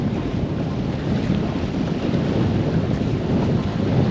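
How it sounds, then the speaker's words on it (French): Wind gusts steadily over a seawall by the sea during surfcasting, a constant rushing buffet against the microphone with no voices. "Le vent, hein."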